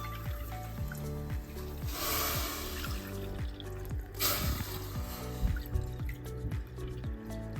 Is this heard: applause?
no